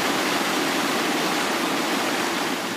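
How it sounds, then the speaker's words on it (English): Wastewater from leather tanneries pouring through a channel into the Nile, a loud, steady rushing of flowing water with no pauses and no voices. "This wastewater channel flows from leather tanneries operating just meters away from the Nile."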